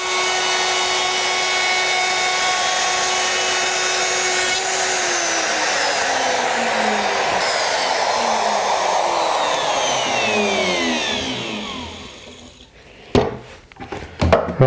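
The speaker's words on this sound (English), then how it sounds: "I've just finished routing a groove in the strip that'll go across the end" A Bosch router cuts a groove into a wooden strip for a chicken coop, a loud, steady high whine that winds down in pitch as the motor spins to a stop, followed by a few sharp knocks and clunks.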